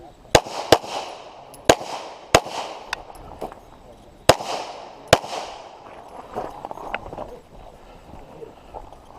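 Pistol shots ring out at an outdoor IDPA shooting match, a string of sharp loud cracks in irregular clusters, several close together then a pause, each with a brief echoing tail, followed by quieter shuffling.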